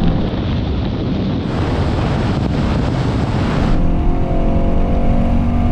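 Two Mercedes-AMG V8 sedans, an AMG GT S 4-Door and an E63 S, accelerate hard in race mode from a rolling start in third gear, a loud, steady roar buffeted by heavy wind noise with no talking.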